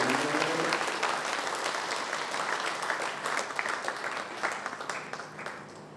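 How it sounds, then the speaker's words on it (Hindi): An audience gathered in Ghazipur claps to welcome an arriving guest, a steady, dense round of applause that holds for several seconds before easing slightly. "ताली बजा के एक बार उनका स्वागत करते हैं"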